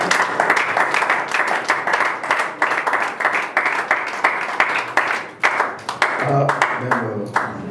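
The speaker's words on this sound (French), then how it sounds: "On acclame pour la parole du Seigneur" A church congregation claps together in a strong, rhythmic burst of applause, loud and close, fading unevenly toward the end with scattered claps.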